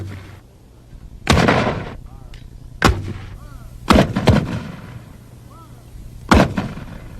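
Ranger weapons fire from an M60 machine gun, a 90mm recoilless rifle and a Carl Gustav, heard as several heavy, booming reports spaced seconds apart, each followed by a rolling echo. Faint voices sit underneath.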